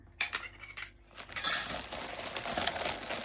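Small spoons and kitchen utensils clink and rattle as they are picked up and handled, a run of close, bright metallic taps with a brief burst of jangling in the middle.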